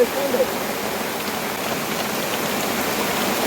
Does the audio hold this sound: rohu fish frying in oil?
no